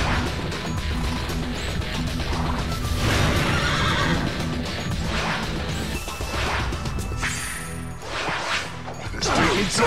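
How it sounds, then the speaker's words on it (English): Cavalry horses in the battle game Devil Kings neigh and whinny loudly amid clattering hooves, crashes and whooshing strikes, a busy, continuous fight soundscape. "glad to feel the Minotaur's cavalry stampede"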